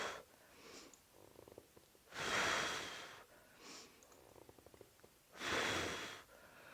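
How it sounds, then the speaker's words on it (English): Breath pushed out during a Pilates reformer core workout, two long, fairly strong exhales separated by quieter shuffling and softer breathing, close by. "Exhale out."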